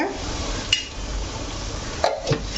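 Masala for chicken biryani sautés over a low simmer in a pan, giving a soft, steady sizzle, with a few sharp clinks of a spoon against the pan scattered through it.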